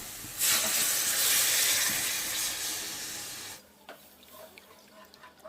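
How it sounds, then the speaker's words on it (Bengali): Coconut milk poured into spice paste frying in a pan for a prawn curry, a loud hissing rush of liquid hitting hot oil that gradually fades and then cuts to quieter bubbling with a few clinks. "এবার নারকেলের দুধটা দিয়ে দেব"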